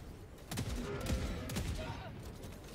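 An autocannon fires in a video game in a rapid, rhythmic burst of thuds, loud and close over a dense background of battle noise.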